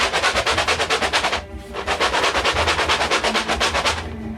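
A 580-gram cardboard box of Honey Nut Cheerios cereal is shaken in a fast, even rattle of rustling pieces, loud and close, with a short break partway.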